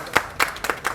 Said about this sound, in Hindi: हमजा मान के लिए जोरदार तालियां हो जाए।